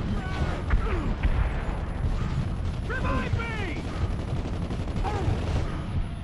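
Gunfire in the video game Gears of War 2, with rapid bursts of shots and mechanical clatter in a busy multiplayer fight, mixed with background talk.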